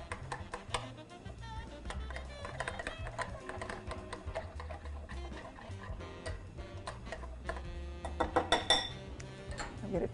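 A spoon scrapes and clinks around a bowl while a mayonnaise mixture is stirred until smooth, with steady close-up taps and clatter that grow a little louder and busier near the end.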